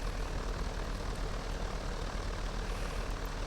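A propeller airplane sits on the runway at Van Nuys with its engine running, throttle open but the aircraft not rolling, giving a steady, loud, unbroken drone throughout with no voices.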